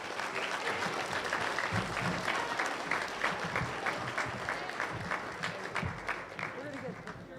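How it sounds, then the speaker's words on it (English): Applause from an audience at a school awards assembly for an undefeated girls basketball team, steady clapping throughout with some crowd voices mixed in underneath. "let's give them one final round of applause, please"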